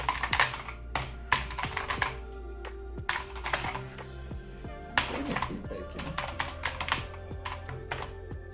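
Fingers type on an entry-level gaming computer keyboard, a steady patter of close key clicks and presses, with someone talking over it.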